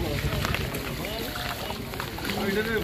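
A boat arriving on the water near the Shankar Math area of Belonia, its continuous engine drone and water wash heard close under wind buffeting on the microphone, with a voice talking over it.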